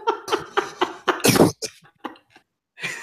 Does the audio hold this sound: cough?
yes